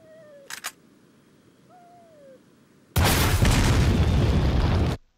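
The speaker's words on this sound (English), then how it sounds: "You'll just have to be okay with me blowing up an entire bird with it." Explosive weapon blowing up a bird in Resident Evil 4 Wii Edition: after faint bird hoots and a couple of clicks, a loud, sustained blast roars for about two seconds, then cuts off.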